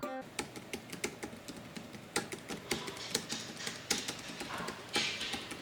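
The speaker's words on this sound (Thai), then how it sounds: "เราไปลองฟังเสียงการกดของเจ้าโอเกอร์ี p t 0า3กันครับ" Keys tapped on an OKER BT-033 foldable, rechargeable wireless Bluetooth keyboard with touchpad, a close, fairly quiet run of irregular soft clicks and taps.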